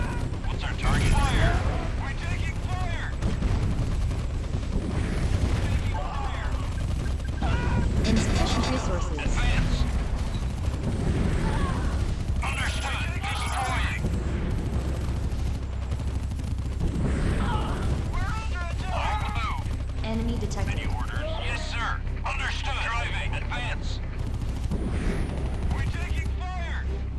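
Rapid gunfire and explosions fill a real-time strategy game battle, a dense continuous barrage with brief unit voice lines over it.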